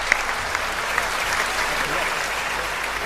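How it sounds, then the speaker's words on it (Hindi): Audience applause at a stage event, steady and dense clapping from a large crowd filling the whole stretch with a few sharper claps on top. "तो एक बार जोरदार तालियां बजा।"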